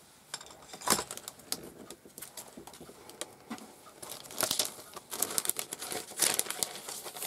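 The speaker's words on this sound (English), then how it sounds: "I'm actually going to chop the top of the packaging off because I find it easier to get them in and out of the packet that way" Scissors snip through plastic stencil packaging with crinkly crackles and a few sharp cuts, close and fairly quiet, alone with no talk.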